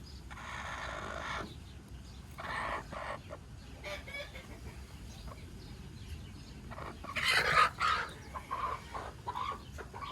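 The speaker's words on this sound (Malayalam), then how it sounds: "ഇവിടെ ഇനി അടയിരിക്കുന്ന കോഴികൾ ഇതാണ്" Soft, scattered clucking from brooding hens nearby in a quiet setting, with a louder burst of squawking partway through.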